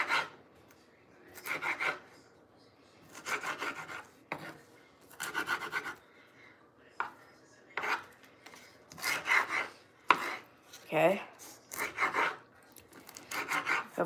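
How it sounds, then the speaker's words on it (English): Cabbage sliced with a knife during home cooking: repeated rasping, crunchy cuts in short bursts with brief pauses between, close and fairly quiet, with no talking. "it's not the most interesting thing to watch cabbage being cut"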